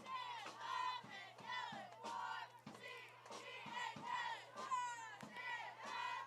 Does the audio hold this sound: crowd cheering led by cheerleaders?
yes